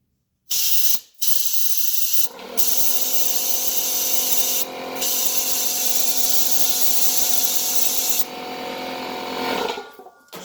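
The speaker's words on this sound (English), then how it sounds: "Shut the compressor off." An air compressor feeding air through a fitting to refill a dead WD-40 aerosol can, heard as loud hissing bursts and a long steady high hiss over a mechanical rattle, close up and cut off abruptly, with no talk.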